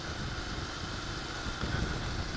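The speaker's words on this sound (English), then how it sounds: "I think also you can hear it that it's revving up" A 1981 Honda CB750 Custom motorcycle engine runs high at idle, likely from a carburetor fuel mixture fault, making a steady, faint mechanical drone with a slight swell near the end.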